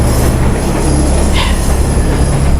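A moving train rumbles loudly and steadily close by, with metal wheels squealing against the rails throughout and a brief sharper screech near the middle.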